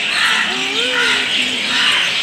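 Birds call and chirp from a tree over a steady background hiss, with a few short, bending calls standing out clearly.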